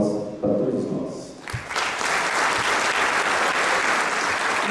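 Applause from a large audience of physical education professionals swells after a brief lull, becoming a loud, dense, sustained clapping that carries on to the end, with some voices mixed in.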